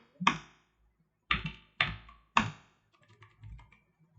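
Several crisp keystroke bursts from a computer keyboard as code is typed, a few sharp clusters of taps followed by softer scattered presses, close and alone with no talking.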